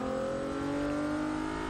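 Twin-turbo Nissan Juke-R in Forza Motorsport 6 accelerating hard, a steady, loud, droning engine note with a rising pitch over a short stretch.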